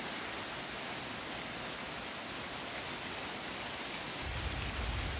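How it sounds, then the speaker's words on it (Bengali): Light drizzle falls steadily over a tea garden, a soft continuous patter of fine raindrops with a slightly fuller wash of sound near the end. "যদিও এখন মুষলধারে বৃষ্টি পড়তেছে না, ঝিরিঝিরি বৃষ্টি পড়তেছে"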